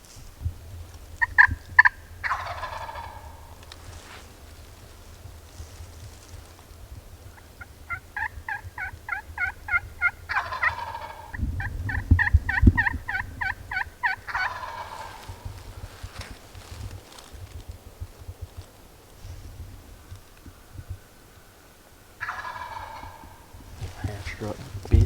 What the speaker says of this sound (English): that is as real adult gobbler as it gets